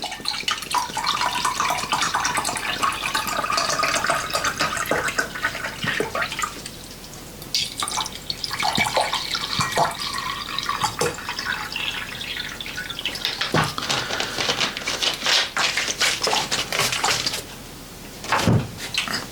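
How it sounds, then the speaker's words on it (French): Water trickles and splashes into small pots used for watercolour painting. The pouring is close and continuous, with a few brief pauses and drips, and nobody speaks. "c'est peut-être mettre de l'eau dans mes pots"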